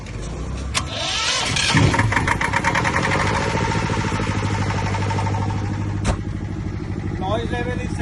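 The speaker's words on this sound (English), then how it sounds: "I'll start the generator set and I'll show you." A Bajaj 25 kVA soundproof diesel generator set cranks over, catches and settles into a steady, even idle hum, heard close with a sharp click near the end and brief voices in the background.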